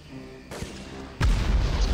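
Grenade explosions in the video game Medal of Honor, set in a poison gas complex: a muffled thump, then a louder, sharper blast with a rumbling tail, with no talk over them.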